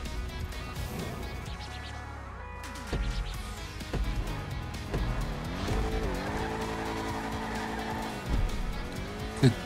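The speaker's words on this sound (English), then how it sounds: "Good peel out." A Declasse Vigero ZX in GTA Online peels out with loud tire squeal and a revving engine, the screech rising and sustained over several seconds before easing off.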